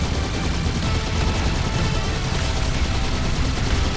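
A mounted gun fires in Halo 2: Anniversary as a dense, continuous stream of rapid automatic shots, loud and unbroken throughout.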